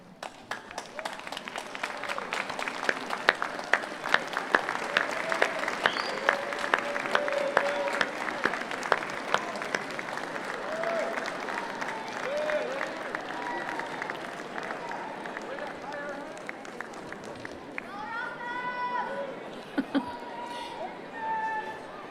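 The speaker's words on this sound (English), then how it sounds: "give them a round of applause for all the support they've given you during your time here" A packed auditorium at a dentistry college commencement gives a long round of applause for the graduates' families and supporters. Dense, sustained clapping fills the hall, swelling and then thinning, with a voice speaking over it toward the end.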